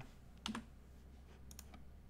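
A single computer keyboard key press while working in After Effects, a faint close click standing alone against quiet room noise, with a softer tap or two after it.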